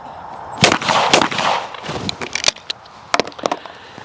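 Shotguns fire during trap shooting outdoors, several sharp loud reports spaced irregularly over a few seconds, some trailing echoes and fainter distant shots between them.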